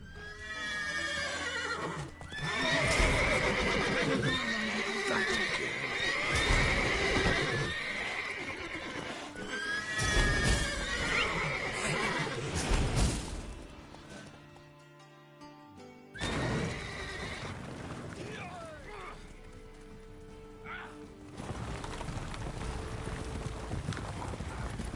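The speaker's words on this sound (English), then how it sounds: "Gotta calm all the horses before they wake the guards." Horses in a video game stable neigh and whinny repeatedly, loud and close, with hoof clip-clops and shuffling between the calls.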